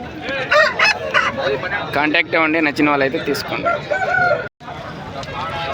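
A rooster crows loudly in the background at a country chicken market while someone talks continuously over it, with other fowl calling nearby.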